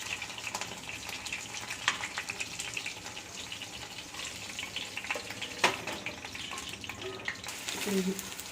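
Chicken pieces frying in butter in a pan over low heat, a soft steady sizzle with occasional crackles and pops, heard close up with faint speech in the background.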